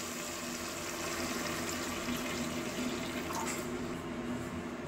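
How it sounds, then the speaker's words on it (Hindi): About 500 ml of water pours steadily into a cooking pot with a continuous rushing, splashing flow, fairly quiet and uninterrupted. "तो मैं यहाँ पर डाल रही हूँ 500 ml पानी"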